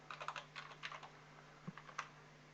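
Quick, light clicks of a computer keyboard as list items are typed, close and quiet, in short irregular bursts with no talk.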